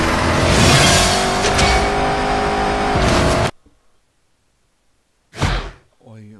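Car in the Stuntman Ignition video game roars loudly as it drifts and drives for a few seconds, then cuts out abruptly into silence before a short burst of game noise returns.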